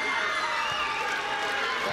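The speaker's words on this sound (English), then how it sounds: "The crowd love that." Football crowd at the 2019 Pacific Games in Samoa cheering Samoa's first goal, a loud sustained roar of many voices throughout, with a commentator talking over it.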